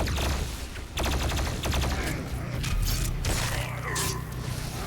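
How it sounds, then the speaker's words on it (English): Rapid energy-weapon fire from a plasma rifle in DOOM Eternal, with sharp bursts and a crackling shield explosion over dense game noise and a low rumbling soundtrack. "The plasma rifle can quickly destroy energy shields,"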